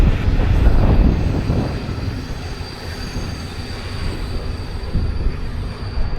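A goods train rolls along a railway line nearby, a steady low rumble of wagons and wheels on track holding fairly constant throughout, with faint high squeal tones above.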